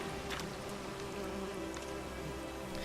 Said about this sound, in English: And then the bees go crazy.